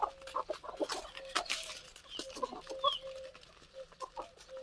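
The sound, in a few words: desi chickens clucking on a free-range poultry farm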